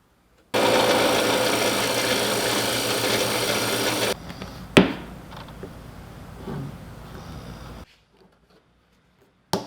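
A power drill bores into wood for a bookshelf build, a steady loud whirring run of about three and a half seconds, then a sharp knock and quieter handling noises in a garage workshop.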